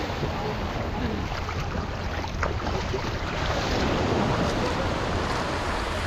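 A speedboat crossing open sea toward Nusa Penida roars with a dense, steady wash of engine, hull slap and wind noise that stays loud and unbroken throughout.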